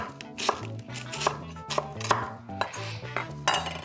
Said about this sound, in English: Meanwhile, we will slice our onion.